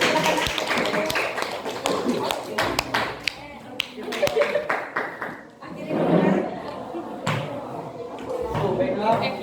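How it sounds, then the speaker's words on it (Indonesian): Classroom applause for a student after a group presentation, a burst of many hands clapping with chatter around it, dense and fairly close, fading out midway and then picking up again. "silakan tepuk tangan untuk temannya"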